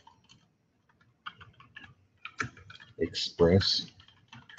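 Typing code on a computer keyboard: light, scattered key clicks come in short bursts while someone talks over them.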